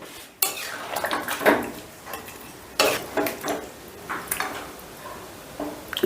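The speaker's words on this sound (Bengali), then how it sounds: "এবারে সমস্তটা আলতো হাতে একটু মিশিয়ে দিচ্ছি" Chicken curry is gently stirred in a pot, with a spoon knocking and scraping against the metal in several irregular bursts over a faint background.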